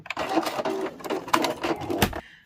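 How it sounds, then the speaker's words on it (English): A sewing machine back stitching the binding on a small quilted mug rug, its needle running in a few quick rattling bursts with short pauses between them, close and clear. "So I'm just going to stop there and back stitch."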